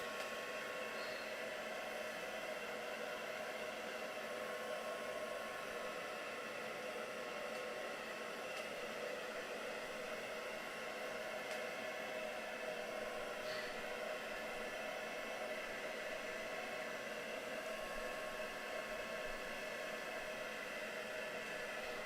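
A hair dryer blows steadily on wet paint, a constant whirring rush of air at low level that holds unchanged for the whole stretch without any speech.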